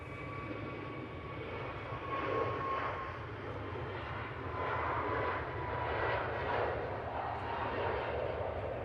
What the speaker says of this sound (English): the second bit of that landing was heavy